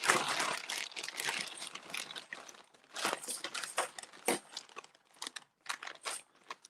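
A paper coin bag is torn open by hand, with crisp crinkling and ripping bursts coming in uneven clusters, close and fairly quiet, followed by scattered rustles.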